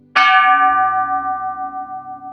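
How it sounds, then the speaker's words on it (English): A deep bell strikes once, loud and close, its rich ringing tone sustaining and slowly pulsing as it decays with no other sound. "The bell rang, not the school bell,"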